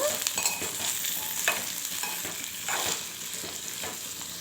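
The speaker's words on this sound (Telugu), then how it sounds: "ఇప్పుడు ఇందులో మనం కట్ చేసుకున్న ఆలుని వేసుకోవాలి ఇప్పుడు చక్కగా ఒకసారి అయితే కలిపేసుకుందాము" Cut potatoes frying in a pan and being stirred: repeated scraping and clattering strokes of a spoon over a continuous crackling sizzle, close and clear.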